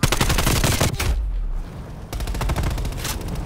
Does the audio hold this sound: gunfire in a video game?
yes